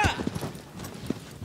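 Horse hooves clop in the video game Shadow of the Colossus, a few distinct thuds over a short stretch with a faint background.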